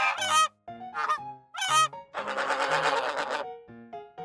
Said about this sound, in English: Goose, honking sound.